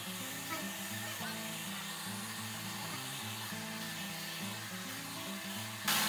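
A Clairs ion hair dryer blowing steadily while hair is dried, a continuous loud motor whir with a shifting hum that holds throughout and swells briefly at the end.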